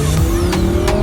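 A twin-turbo Lamborghini drives along, its loud engine note close and steady with a shifting tone over about a second, no voices.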